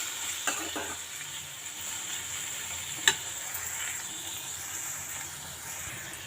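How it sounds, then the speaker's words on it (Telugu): Brinjal and tomato cooking down with thick tamarind juice in a pan for a chutney give a faint, steady hiss of sizzling. A few sharp ticks from the stirring spoon break through, with no voices. "ఇప్పుడు ఇవి మొత్తం 3 కలిపి బాగా మగ్గించుకుందాం"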